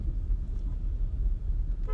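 Cabin of a car being driven on the road during Eid travel, a steady low engine and road rumble close around the listener, without a break across the clip.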